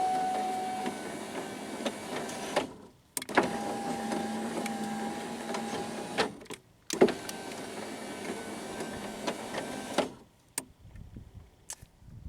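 Electric power window motor in a Pontiac Grand Am running in three long whirring runs separated by brief stops, close and steady, ending with a few quieter clicks.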